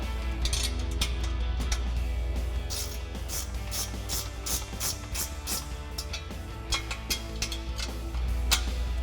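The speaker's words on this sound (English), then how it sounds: "you're going to need 2 14mm wrenches in order to tighten these up" Ratchet wrench tightening exhaust hangers under a 2015-2023 Mustang EcoBoost fitted with a Cobb cat-back exhaust, a close, steady run of rapid clicking strokes over a low background hum.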